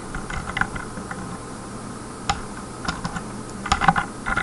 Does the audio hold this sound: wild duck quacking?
no